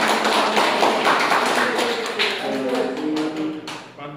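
A university agrarian sociology class gives a short burst of clapping, a dense patter of many hands nearby that fades out over a few seconds, with voices mixed in.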